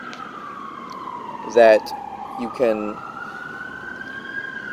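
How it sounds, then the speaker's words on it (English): Emergency vehicle siren wailing in the distance, a steady sweeping tone under a voice, which breaks in with two short bursts of talk. "you can pardon the siren there."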